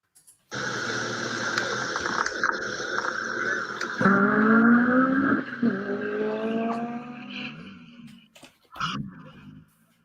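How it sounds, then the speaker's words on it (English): A hill climb race car engine revs hard and accelerates, rising in pitch through gear changes, then backs off with sharp pops and bursts near the end. "A hill climb car."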